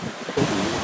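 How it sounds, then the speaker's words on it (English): A river waterfall running high with plenty of water, a broad rushing roar that swells in partway through and then holds steady, mixed with wind buffeting the microphone. "Got a lot of water coming over the waterfall today."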